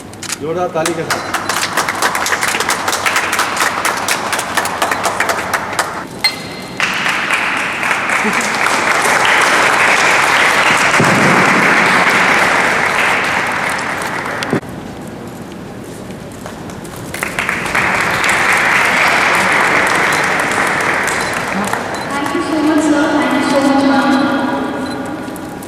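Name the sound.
loud audience applause at school event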